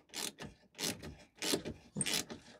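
Four rhythmic bursts of ratcheting come from a wrench working loose a horn mounting bolt on a Nissan Primera P12, close and fairly quiet, with no talk.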